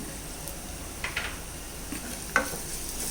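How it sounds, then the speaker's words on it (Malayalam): Kashmiri chilli powder and turmeric sauté in a pan for a tomato curd curry, a soft low sizzle under occasional scraping stirs and a sharp utensil tap. "പൊടിയൊന്ന് മൂക്കുന്നത് വരെ നമുക്കൊന്ന് ഇളക്കി വഴറ്റിയെടുക്കാം."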